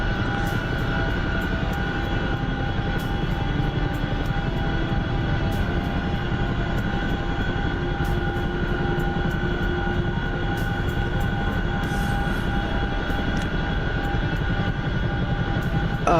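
A CH-47 Chinook helicopter from a combat flight simulator, its engines and rotors holding a steady loud drone with a constant whine and a fine rapid flutter throughout, and no one talking.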